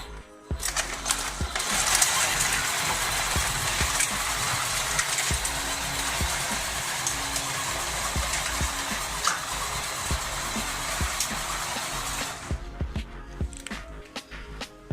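A small RC vehicle's electric motor whines and strains steadily while dragging a 20 kg dead weight of concrete blocks, running for about twelve seconds and then cutting off, with scattered clicks and knocks around it.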